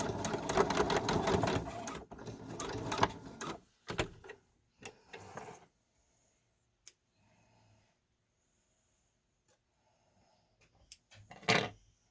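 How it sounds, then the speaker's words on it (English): A sewing machine stitches lace ends for a uniform in a quick loud burst of rapid mechanical chatter. Scattered clunks and handling knocks follow, then near quiet, then one more short run of the machine. "I'm just going to quickly go over to the machine and give them a quick little stitch."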